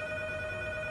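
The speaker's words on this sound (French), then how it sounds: "Téléphone!" A telephone rings in a short steady burst, its electronic tone holding a few bright pitches without a break and sounding clear and fairly close.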